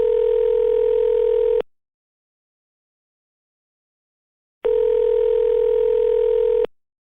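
A mobile phone places a call: a steady ringback tone sounds twice, each burst lasting about a second and a half, separated by a few seconds of silence.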